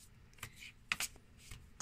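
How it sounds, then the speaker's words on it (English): Tarot cards being shuffled by hand: several short, crisp riffling bursts with small pauses between them, close and fairly quiet, with no talking. "let me give it another quick little shuffle"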